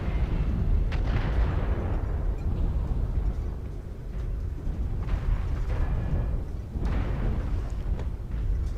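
Artillery strike landing in MechWarrior Online, a heavy rumbling barrage of booming explosions with several sharper blasts rising out of the roar, loud and sustained.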